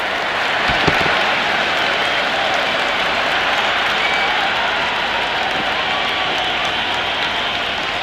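Simulated stadium crowd roaring and applauding after a big hit in the cricket video game Cricket 26, a steady, dense wash of cheering and clapping that stays loud for the whole stretch.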